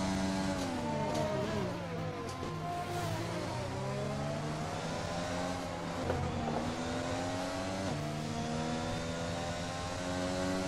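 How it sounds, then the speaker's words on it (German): McLaren and Red Bull Formula 1 cars roar in the F1 2020 racing game, engines whining and shifting pitch as they close in from behind, loud and continuous with no talking. "Oh, McLaren, Red Bull. Kommt jetzt gleich hinter uns angeflogen."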